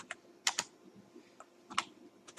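Soft, close keystrokes on a computer keyboard as code is typed, irregular clusters of light taps with short pauses between them, fairly quiet and with no voices.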